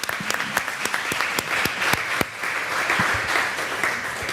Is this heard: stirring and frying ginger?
no